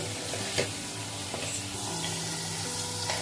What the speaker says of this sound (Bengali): এবারে মশলাটাকে সব মশলাগুলোকে আমি কষিয়ে দিব।